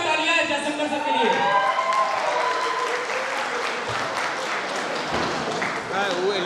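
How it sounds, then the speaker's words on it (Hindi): An audience at an event applauds loudly for a guest, steady clapping heard under and alongside spoken voices that carry over it throughout. "एक जोरदार तालियां है जयशंकर सर के लिए"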